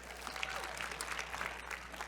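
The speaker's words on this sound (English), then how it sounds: "Let's first give a round of applause for Michael, Christy, the whole Crisp team bringing us all together here today" Audience at a speaker event applauds steadily, a broad even crackle of many hands clapping at once, moderately loud and continuous throughout.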